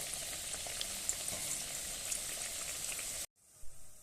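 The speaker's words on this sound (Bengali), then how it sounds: "তেল গরম হয়ে গেছে, এরপরে এগুলোকে ভেজে নেব" Semolina snacks deep fry in hot oil with a dense, steady bubbling hiss, close and fairly quiet, cutting off abruptly near the end before a brief soft clatter.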